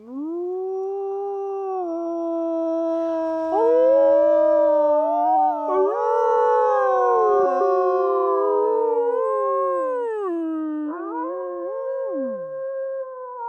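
A person imitates a wolf howl with a long, drawn-out call whose pitch keeps sliding up and down, sustained and loud for over ten seconds before trailing off, with no talking.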